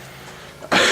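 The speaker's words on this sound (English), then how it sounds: "I'm going to cough a little bit because I am getting over a cold" A single short, harsh cough breaks out near the end, loud and close, from a man recovering from a cold, after a quiet stretch of room noise.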